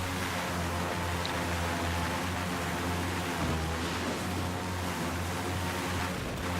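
Steady rushing water from the Battlefield 4 video game on the Spratly island map, a broad continuous wash with a low engine drone running under it, loud and unbroken throughout.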